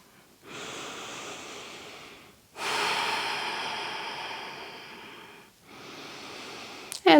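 Slow, deep breaths during a lying-down yoga pose, three long audible airy inhales and exhales close to the microphone, separated by brief quiet pauses.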